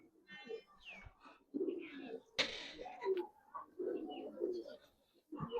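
Giribaz highflyer pigeons cooing at a pigeon seller's place, soft repeated low coos close by with a brief sharp knock in the middle, faint voices in the background.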